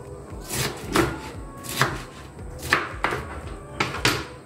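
A knife chops through fresh pineapple on a cutting board, four or five firm, evenly spaced thuds up close with no one speaking.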